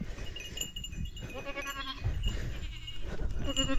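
Goats bleat repeatedly up close, overlapping cries over a busy outdoor background with some rustling.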